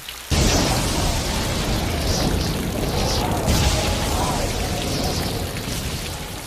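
Heavy rain pours down in a dense, continuous roar that starts abruptly and stays loud throughout.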